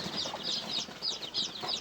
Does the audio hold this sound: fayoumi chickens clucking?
yes